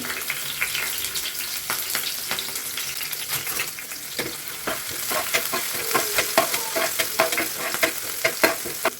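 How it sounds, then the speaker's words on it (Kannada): Garlic and green chilies frying in hot oil for pepper chicken, a continuous close sizzle with crackling pops and the scrape of stirring, no voices. "ಇವಾಗ ಎಣ್ಣೆ ಚೆನ್ನಾಗಿ ಕಾದಿದೆ ಇವಾಗ ಮೊದಲಿಗೆ ಬೆಳ್ಳುಳ್ಳಿ ಸೇರಿಸ್ಕೊತಾ ಇದ್ದೀನಿ ನಂತರ ಹಸಿರು ಮೆಣಸಿಕಾಯಿ ಸೇರಿಸ್ಕೊತೀನಿ"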